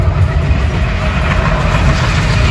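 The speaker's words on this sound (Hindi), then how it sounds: "ओ ट्रेन भी जा रहा" A train rolls past a rural resort in a village in Assam, a steady, loud rumbling roar with no break.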